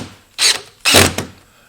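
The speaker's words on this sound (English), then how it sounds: "We'll use our coarse thread screw because this is softwood" A drill drives a coarse-thread screw into a Kreg jig pocket hole in poplar softwood, two short loud bursts of whirring and grinding close by, with a brief pause between them.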